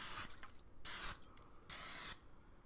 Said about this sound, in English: We're going to start off by just spraying cast iron pan